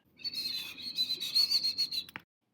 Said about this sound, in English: House Wren.